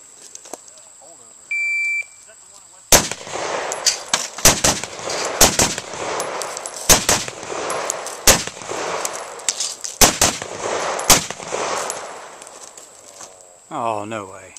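Gunshots at a shooting range, a series of loud sharp cracks in irregular bursts close by, with electronic beeps at the start and people talking between shots.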